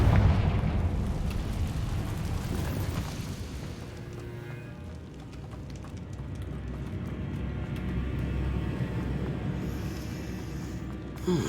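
A Confringo blasting spell explodes in the Hogwarts Legacy video game, opening with a loud, deep boom that settles into a rumbling roar and sustained low crackle for several seconds, with a sharper burst at the very end.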